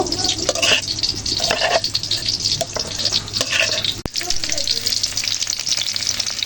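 Onion and crushed spice paste fry in a little oil in a cooking pot, making a loud, close, continuous sizzle broken by stirring scrapes and occasional sharper clatters.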